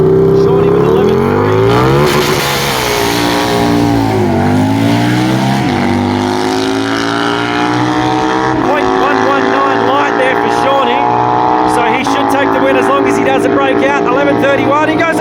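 Motorcycles roar down a drag strip at Perth Motorplex, a Harley against a naked Yamaha, with loud engines revving and climbing through repeated gear changes. A commentator's voice runs over the engines.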